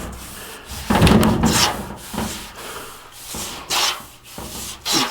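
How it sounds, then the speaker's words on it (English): Hand scrubbing inside an HVAC return air duct with TSP cleaning solution: repeated rough brushing strokes in irregular bursts, close and fairly loud, with brief pauses between passes. "Scrub it real good."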